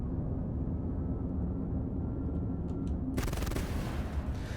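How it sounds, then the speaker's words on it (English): Ballistic cannons on a starship in the Fractured Space video game fire in a sudden rapid burst after a steady low engine rumble, loud and rattling over the drone. "I'm always about big, noisy, ballistic weapons on ships"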